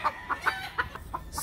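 A laying hen clucks in a series of short, close, sharp calls at an uneven rhythm, with no talking over them.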